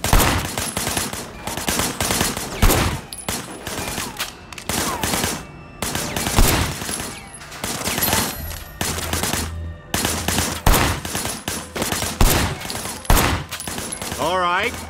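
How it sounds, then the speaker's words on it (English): Sustained bursts of automatic gunfire and rapid shots in the video game Sleeping Dogs, loud and dense throughout during a shootout from cover at a barricade, with a voice speaking over it at times. "I want you to put some bullets in a few things."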